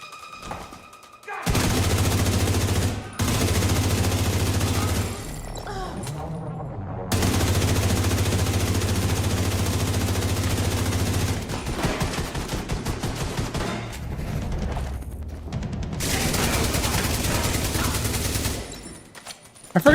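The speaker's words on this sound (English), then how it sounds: "I forgot my LMG does great against armor." Heavy light machine gun fire in The Division comes in three long sustained bursts with quieter gaps between them, close and loud with a deep low rumble under the rattle.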